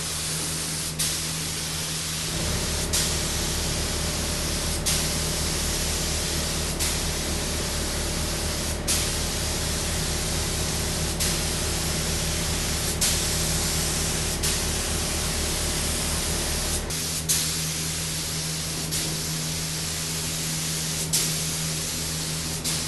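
A spray gun lays thin coats of metallic pearl paint on a K5 Blazer in a hot booth, its steady hiss running for about fifteen seconds over a constant fan drone before cutting off.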